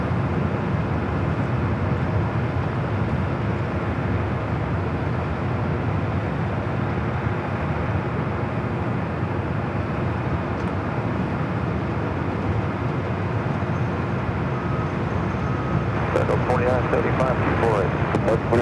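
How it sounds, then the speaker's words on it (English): Airliner bound for Atlanta taking off from runway 24 left at LAX, a loud, sustained engine roar that fills the whole stretch without fading, with a voice talking over it near the end. "the flight heading to Atlanta, now rolling down at 24 left"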